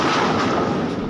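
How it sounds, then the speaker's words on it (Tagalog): Loud blast from an attack on the bulk carrier MV Transworld Navigator in the Red Sea, heard as a sustained, heavy roar of broadband noise filling the whole moment, close and overwhelming, with no speech. "isang malakas na pagsabog na narinig"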